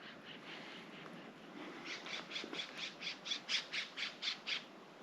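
Several scrub jays call from a tree on Santa Cruz Island, a run of a dozen harsh, evenly spaced squawks that grow louder and then stop, over faint outdoor hiss.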